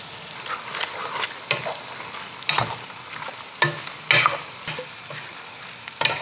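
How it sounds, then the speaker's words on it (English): Korma sauce with almonds heats in a pot on the stove, a steady bubbling sizzle broken by repeated sharp clanks of a spoon stirring against the pot, close and fairly loud with no talking. "we brought it to a boil, as you can see here"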